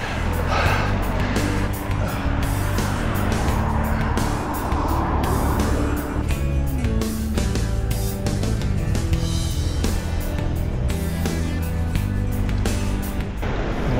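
Cars passing on a mountain road near Zakopane, a steady loud traffic roar that swells and fades as vehicles go by, continuous across the whole stretch with no talking.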